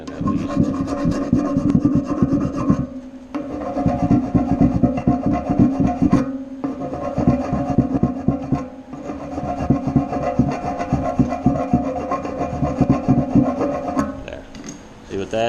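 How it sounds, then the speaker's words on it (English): A hand file rasping back and forth over the metal drum surface of a Speed Queen commercial washer, loud, rhythmic strokes close by with two short pauses. "take a standard file and just get that one spot"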